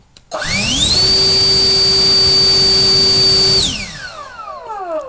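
A cheap Chinese turbo blower is switched on at its first speed: after a click, a loud, steady high-pitched electric whine holds for about three seconds, then the motor cuts off and spins down with a falling tone.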